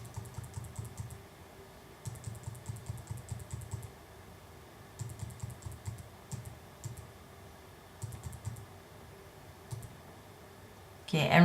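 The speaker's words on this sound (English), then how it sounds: "I'm moving him over now with my arrow keys." A computer keyboard's arrow keys are tapped in quick clustered runs of crisp clicks, pausing between bursts, close by against a quiet room hum; a short louder thump closes the clip.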